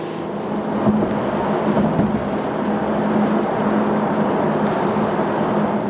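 A 2012 Hyundai Azera cruises up an expressway, heard from inside the cabin as a steady low road and engine drone with broadband tire and wind noise, no speech.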